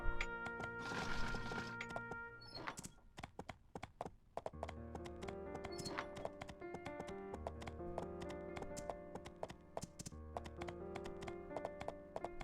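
Rapid, regular hoof clops of a horse galloping in the video game My Time At Portia, over a bright, sustained musical backing with tonal chimes.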